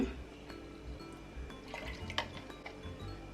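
Faint coconut cream pouring and dripping into a pot, soft trickles and small splashes with light clinks, quiet and close, no talking.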